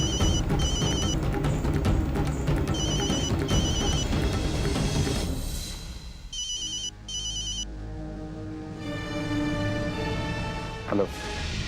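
A telephone rings in repeated electronic bursts over music and background sound, then a few more rings sound alone before the audio changes, with a voice briefly present.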